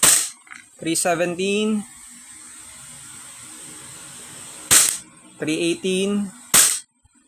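An SRC Umarex G17 Gen5 gas airsoft pistol running Guarder gas and 0.20 g BBs fires a few sharp, snappy shots, some in quick pairs, with someone talking in between.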